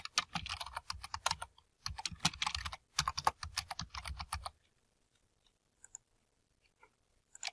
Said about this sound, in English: we can go back to the search and type in his name. We can type in Christian County.